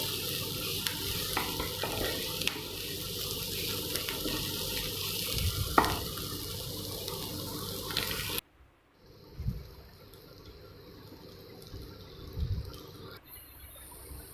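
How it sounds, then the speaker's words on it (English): Chopped onions with a spoon of salt frying in a pan for vegetable rava upma, a steady sizzle with stirring scrapes for about eight seconds, then a sudden cut to quieter, intermittent stirring and light frying noises. "Fry till the onions changes its color to translucent."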